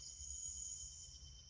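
Steady high-pitched insect trilling, crickets droning continuously in a dense chorus in a jungle, with a low rumble underneath, no voices.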